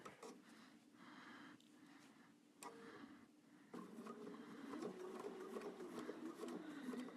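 A sewing machine runs steadily as binding is sewn onto a quilt, its soft mechanical whir pausing briefly and then continuing under faint background noise.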